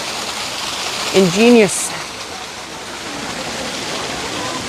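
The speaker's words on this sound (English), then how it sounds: "it's a little bit loud because I got a dragon spewing some water" Water gushes steadily from a dragon-shaped fountain spout at Dujiangyan, a loud continuous rushing wash that fills the scene while a voice briefly speaks over it.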